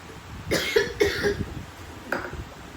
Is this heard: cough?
yes